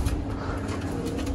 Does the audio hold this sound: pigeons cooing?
yes